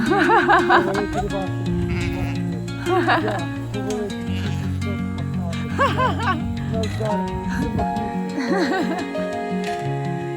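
Sheep bleating in a forest clearing, several close, loud wavering calls that overlap one another, with a person talking among them.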